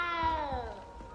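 A cat meows in the video game Hogwarts Legacy: one drawn-out, harmonic meow that slides downward in pitch over about a second, heard close and clear with faint background ambience.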